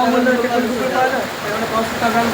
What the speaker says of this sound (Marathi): एकदम भारी पाऊस आले पाऊस